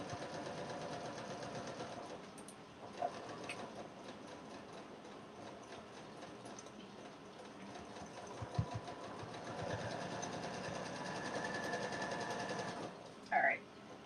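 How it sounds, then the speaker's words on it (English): A sewing machine stitches along the top seam of a canvas tote bag with a steady, rapid mechanical whir that runs almost the whole time, with a few clicks and a brief pause partway through. "I'm sewing right along the top here"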